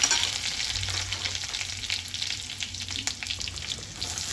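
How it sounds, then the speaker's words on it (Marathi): Mustard seeds splutter and cumin and garlic sizzle steadily in hot oil in a pan, close and continuous, with occasional stirring scrapes and no voices. "मोहरी चांगली तडतडल्यावर यामध्ये मी काढलेले जिरे, लसूण टाकून चांगले परतवून घेणार आहे."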